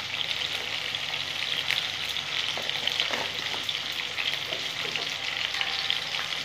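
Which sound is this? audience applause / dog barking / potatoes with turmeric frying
potatoes with turmeric frying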